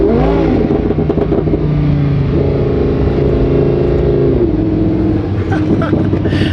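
Lamborghini Huracán LP610 accelerating on snow with all-wheel drive engaging, a loud engine rising in pitch through revs, holding, then dropping as it shifts, steady and close throughout.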